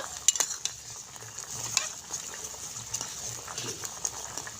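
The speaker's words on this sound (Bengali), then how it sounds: "দিয়ে ভালো করে এভাবে নেড়ে চেড়ে নেব।" Fried gaja sweets are stirred in sugar syrup in a pan, with quiet scraping and clinking of a utensil over a faint bubbling sizzle. Scattered soft knocks come close by.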